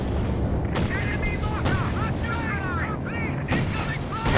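Heavy bomber air strike in Company of Heroes 2: several loud booming explosions and gunfire bursts, with someone talking over the blasts amid battle noise.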